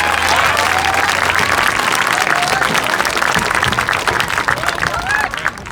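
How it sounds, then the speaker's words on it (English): A large crowd applauds loudly and steadily, dense clapping filling the whole stretch before tapering slightly at the end. "give them a big round of applause"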